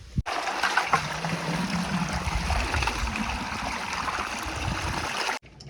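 River water rushes and burbles continuously, a steady close stream flowing without pause.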